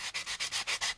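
Cross sanding on the plastic hull of an AMT U.S.S. Enterprise model kit: six rhythmic, close rasping strokes in quick succession, each a hissy scrape of abrasive over plastic, with no voices.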